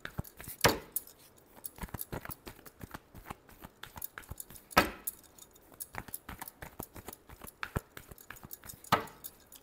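Tarot cards being shuffled by hand during a Sagittarius reading, heard as a quick run of soft papery flicks and taps with three sharper snaps spaced a few seconds apart, close and fairly quiet with no talking.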